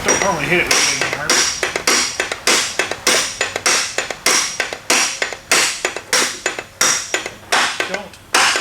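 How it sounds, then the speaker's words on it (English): Repeated hammer blows on metal, loud and close, struck in a steady rhythm of roughly two per second, each hit leaving a bright ringing tone. "Don't normally hit it with a hammer."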